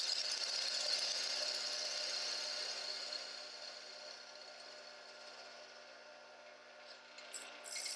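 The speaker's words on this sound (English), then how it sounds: "A series of light passes are taken so the lid doesn't get ripped off the lathe." A wood lathe spins a burl box lid through a series of light cuts, giving a continuous hissing whir that fades slightly midway, with a few faint higher ticks near the end.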